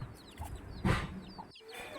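A hen clucks softly a few times nearby, with a brief louder rustle in the middle and quiet surroundings.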